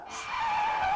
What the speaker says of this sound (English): The lead car has come to a screeching halt, just 200 meters away from the finishing line.